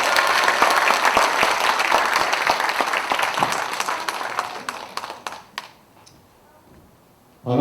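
A crowd at a Justice Party campaign rally for party leadership candidates in Incheon applauds for a candidate, with dense, loud, sustained clapping that thins out and stops after several seconds, leaving near silence.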